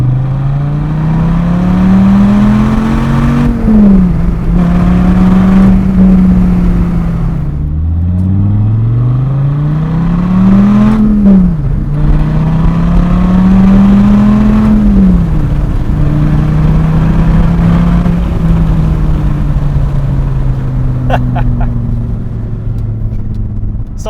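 A 2008 Dodge Viper ACR with side exhaust revs loudly and up close, its deep engine note rising and falling through several long sweeps over a steady rumble, with no voices.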